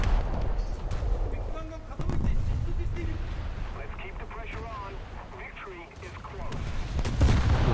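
Destroyer guns firing in a naval warfare video game, a series of booming shots and rapid gunfire bursts mixed with game effects, heard under a player's speech.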